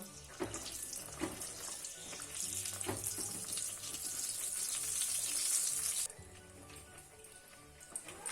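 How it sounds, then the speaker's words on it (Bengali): Bright, hissing sizzle of a stuffed flatbread (pea-filled kochuri) deep-frying in oil over low heat, close up, growing louder before dropping off sharply, with faint clatters. "অবশ্যই আঁচটাকে লো করে ভাজতে হবে।"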